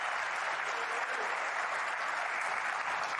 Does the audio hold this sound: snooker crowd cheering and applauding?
yes